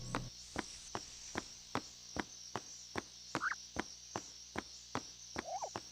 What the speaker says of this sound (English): listen to the crickets and other bird noises